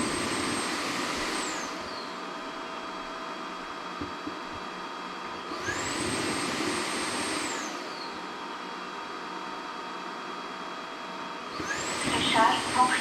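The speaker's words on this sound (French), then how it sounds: "Nettoyage du tuyau." A Roborock Flexi Lite wet-dry vacuum runs its hose self-cleaning cycle: a steady motor whine and rushing water, with a high tone that rises and falls in three repeated surges.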